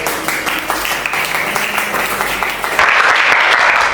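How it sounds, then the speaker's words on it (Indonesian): Classroom applause from students during a lesson, with brisk, steady clapping at close range that grows louder and denser toward the end. "Tepuk tangan buat."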